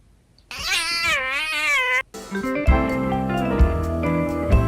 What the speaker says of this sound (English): this cat's trying to get pet